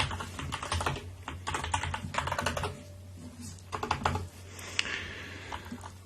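Typing on a computer keyboard to log into a system, quick irregular clicking bursts of keystrokes with short pauses, close and fairly quiet over a low steady hum.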